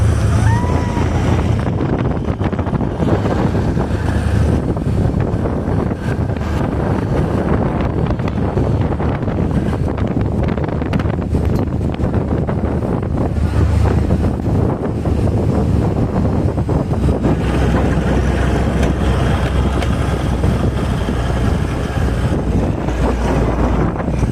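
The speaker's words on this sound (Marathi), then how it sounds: "फर्स्ट बोट राईड होती आज पूर्ण एवढ्या वर्षामध्ये फर्स्ट टाइम असं बोट मध्ये बसलोय" A boat rides across the sea on a trip to Malvan on the Konkan coast. Wind buffets the microphone and the water rushes with a constant, loud roar throughout.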